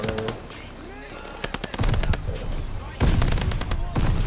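Rapid SMG bursts, the H4 Blixen in Call of Duty, rattle out in several loud close volleys, with game sound effects and a voice talking between the shots.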